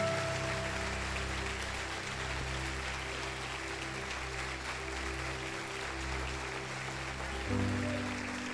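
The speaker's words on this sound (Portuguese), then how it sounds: "Aleluia, um forte aplauso a Jesus" A church congregation breaks into sustained applause during a celebration service, a dense, steady wash of clapping with music or organ tones droning underneath throughout.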